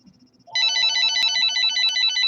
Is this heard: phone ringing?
yes